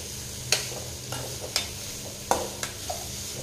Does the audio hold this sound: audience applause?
no